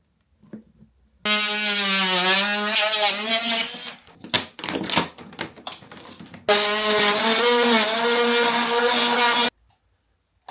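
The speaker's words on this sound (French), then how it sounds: "Un petit coup de tournevis" An electric screwdriver whirs during workshop finishing work at a CBD factory site: two sustained, steady motor whines of about three seconds each, separated by a burst of clattering handling noise, close and loud.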